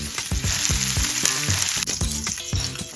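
Steak sears in a hot pan at home, giving a close, steady sizzle broken by rhythmic scraping or tapping, loud and continuous with no talking.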